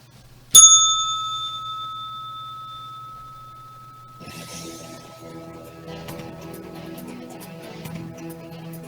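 A single bright bell ring strikes once near the start and rings out with a long fading tone, followed by soft chiming and background hum; no one speaks.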